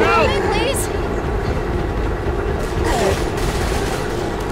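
Rapid gunfire in the video game Left 4 Dead 2, loud and continuous bursts running steadily under players talking over voice chat, with the game's ambient rumble filling the background.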